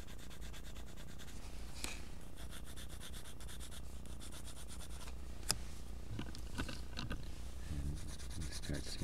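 A Prismacolor colored pencil rubs across paper during drawing, with faint, close scratchy strokes repeating in short back-and-forth bursts over a quiet background.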